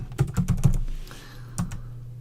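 A computer keyboard is typed on in a quick burst of about five close, crisp keystrokes, then a pause and one more isolated tap.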